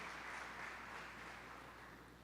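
A church congregation applauds after a call to praise God, a soft, even, sustained patter of many hands clapping at a distance with no talk over it.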